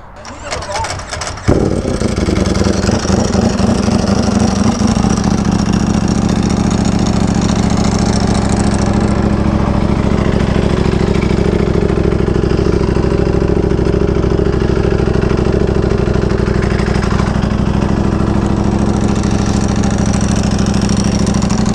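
A Ducati Panigale V4R motorcycle engine fires up after a brief crank and settles into a loud, steady, throbbing idle that fills the whole stretch up close, with a voice speaking faintly beneath it.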